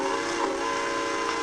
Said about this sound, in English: Let's hear that train whistle rocking.